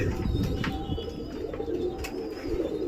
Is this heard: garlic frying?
no